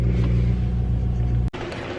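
A BMW 135i drives along, its engine a steady low rumble close up that cuts out abruptly for a moment, then carries on at the same even level.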